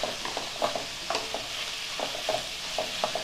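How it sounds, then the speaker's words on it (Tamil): Mushrooms being sautéed in a pan for mushroom fried rice, with soft frying sizzle under repeated spatula scrapes and taps in an irregular rhythm, close up, no talk. "இப்போ இதையும் நல்லா வதக்கி விடுங்க."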